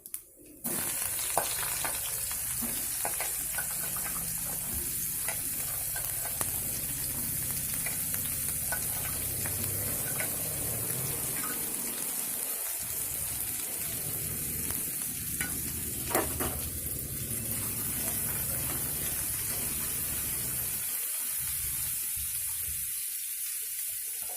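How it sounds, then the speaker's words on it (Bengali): Vegetables fry and get stirred in a pan just after a spice tempering, a steady close sizzle with scraping stir strokes and brief splashy water sounds throughout, without speech. "সবজিগুলোকে আমি আগে ভালো করে ভেজে নেব।"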